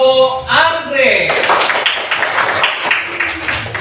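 Students in a classroom clap for a presenting group in a short burst of brisk clapping that follows a spoken voice and lasts about two to three seconds.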